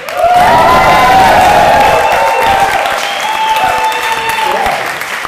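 A stand-up comedy crowd roars with loud applause, cheers and whoops, dense and close, holding strong before easing slightly toward the end.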